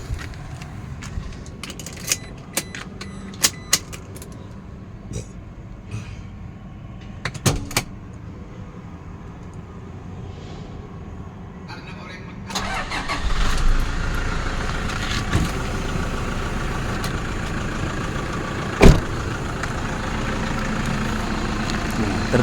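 A 2013 Toyota Fortuner VNT TRD diesel automatic, bonnet open, sits quiet with a few faint clicks, then cranks and fires at about twelve seconds, settling into a steady, even diesel idle that continues close and loud to the end.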